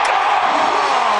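A baseball crowd roars in celebration after a pinch-hit home run by Zach McKinstry in a 2025 MLB game. The roar is a dense, loud, unbroken wall of cheering that holds steady from start to finish.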